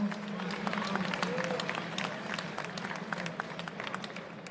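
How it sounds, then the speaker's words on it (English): Crowd at a Caged Aggression fight event gives sustained, fairly faint applause, scattered claps over a low room murmur and hum, continuing steadily throughout. "Let's give those folks a round of applause"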